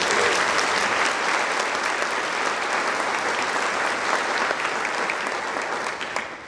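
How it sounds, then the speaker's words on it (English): An audience applauds at a fall school choir concert, dense sustained clapping close and loud throughout, easing slightly near the end. "So can we have one more round of applause?"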